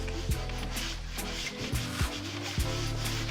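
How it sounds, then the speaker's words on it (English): Soft cloth rubbing across a freshly sanded wooden dining table, a steady scrubbing sound with a few light knocks, close up and fairly quiet. "After sanding, we're just now going to wipe it down"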